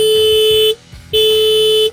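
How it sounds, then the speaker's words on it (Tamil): The horn of a new 2025 Honda Activa 125 scooter sounds two loud, steady, buzzy blasts of under a second each, separated by a brief pause. "இது ஹாரன் பொறுத்த வரைக்கும்"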